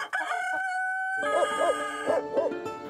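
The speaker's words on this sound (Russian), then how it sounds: "Да не бойся, а петух." A farmyard rooster in a Russian village crows twice in quick succession, loud and close, following a held tonal note, with no talking.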